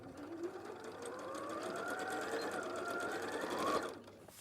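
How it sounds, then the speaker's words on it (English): Sewing machine stitching steadily at close range, a fast even motor whir with rhythmic needle clatter that rises in pitch and then stops abruptly. "While you're stitching that"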